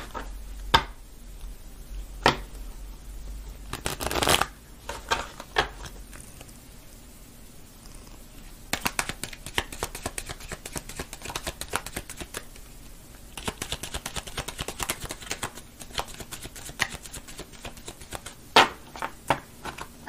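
Tarot cards are shuffled and cut by hand, heard as bursts of rapid fluttering clicks and taps of varying length, close and moderately loud, with pauses and a few sharper knocks between them.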